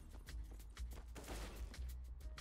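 Rapid gunfire rings out in a Counter-Strike match, a quick burst of several sharp shots spread over a couple of seconds at moderate distance, with no talk.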